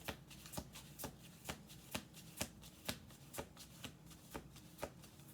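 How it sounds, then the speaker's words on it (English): A deck of playing cards is riffle-shuffled over and over, giving a crisp, evenly spaced series of about a dozen sharp flutters close up, with nothing else heard. "We're going to do one more shuffle here."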